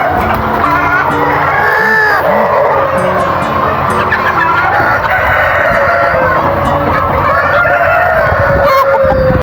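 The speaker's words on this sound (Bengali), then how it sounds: "কালার বার্ড হলো একটি উন্নত জাতের মুরগি" Colour Bird chickens, an improved breed, cluck and call nearby while a rooster crows, over a constant background hum of a busy poultry farm.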